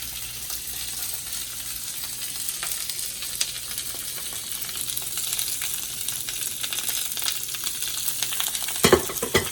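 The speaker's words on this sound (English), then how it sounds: "Don't be afraid for the sizzle." A steady, crackling sizzle of vegetables and carrots stir-frying in a hot pan continues throughout, with a brief clatter near the end.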